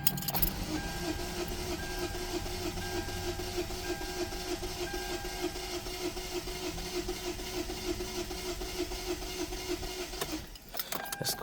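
A 2013 Hyundai Elantra engine with a rough-running fault idles in a steady, unbroken drone with a faint mechanical whine, heard close for about ten seconds before a brief clunk near the end.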